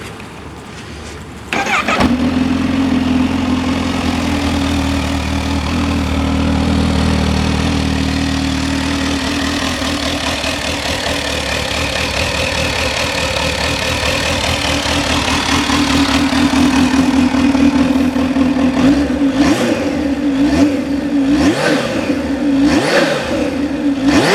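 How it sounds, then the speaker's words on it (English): A 2020 Kawasaki Z H2 supercharged motorcycle starts with a sharp crank, then idles steadily and close before being revved in several rising pulls toward the end. "Let's hear what this supercharged ZH2 sounds like."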